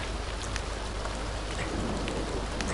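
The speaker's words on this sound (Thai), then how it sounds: "ฝนตกครับ" Steady rainfall in The Sims 2, a dense, even patter of drops with occasional sharper ticks, continuous and fairly loud with no voices.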